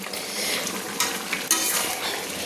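A spoon stirs sweet pumpkin and fish head ghonto in a pan, a close scraping and sizzling with a few sharp clinks of utensil against metal.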